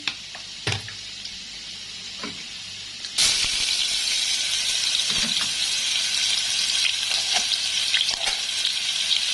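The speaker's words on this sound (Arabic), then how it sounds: "معانا كده شويه زيت، نحط بصله عادي ونحمرها عادي" Onion frying in oil while a chicken kofta dish is cooked. It opens with a few soft clicks and knocks, then a loud, steady sizzle starts at about three seconds and holds to the end.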